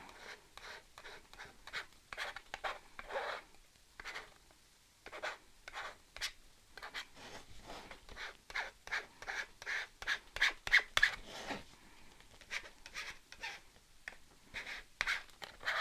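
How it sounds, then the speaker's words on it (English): Repeated soft scraping strokes of a scraper spreading no-bake ceramic paint over a stencil, rhythmic and close, growing busier and louder in bursts. "You want to be able to hear that scraping sound."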